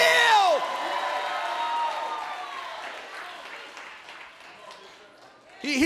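A church congregation breaks into applause and cheering, loud at first and then thinning into scattered claps and shouts, before a fresh burst of noise at the end. Vocal cheers ring over the clapping.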